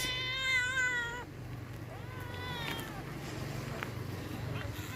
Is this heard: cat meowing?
yes